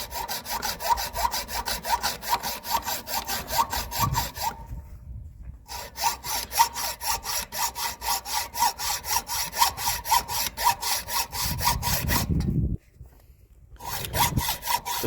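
A hacksaw cuts a threaded rod on a gate post in steady back-and-forth strokes, a rhythmic rasping close by, pausing twice before the cutting resumes.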